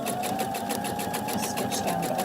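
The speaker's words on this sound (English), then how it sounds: "we're going to go back to the machine and we're going to stitch down this side" A sewing machine stitches a quarter-inch seam down the side of a fabric pocket tissue holder, running in a loud, steady, rapid whir with a fast regular needle pulse and no voices.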